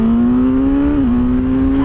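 A 2022 Suzuki GSX-S1000 motorcycle engine drones loud and close with a steady rising tone, dipping briefly at a shift before pulling on again.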